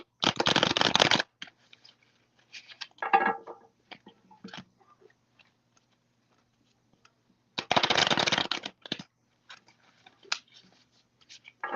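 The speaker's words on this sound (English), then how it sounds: "Gracie, I'm gonna go ahead and shuffle these cards" Tarot cards being shuffled during a live card reading, in two loud, dense riffle bursts separated by quieter handling and tapping sounds.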